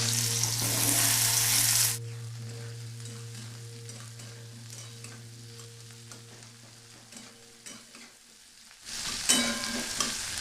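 Cumin, chopped garlic and onion fry in hot oil for chilli chicken, a steady crackling sizzle with stirring taps. A loud hiss rises at the start and swells again near the end, while a low steady hum runs beneath.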